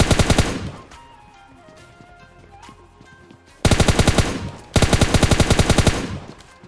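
Automatic rifle fire in the mobile battle-royale game PUBG Mobile Lite comes in rapid, loud bursts, first a short burst, then a lull with faint game ambience, then two sustained sprays of shots.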